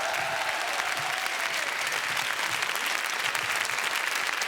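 A television studio audience gives a sustained round of applause, dense and even clapping that fills the whole stretch at a steady level.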